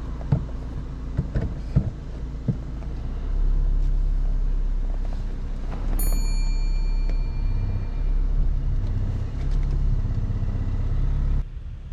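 A car on a driving lesson reverses slowly along a pavement; a low, steady engine rumble runs close by, with a few knocks early on and a brief high whine near the middle.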